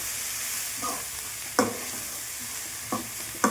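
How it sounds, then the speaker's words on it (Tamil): Green gram frying in a pan for a tempering, with a steady hiss and a few clear scraping stir strokes spaced apart, close by. "பச்சை பயிர் எடுத்து கடையில் போட்டுக்கோங்க"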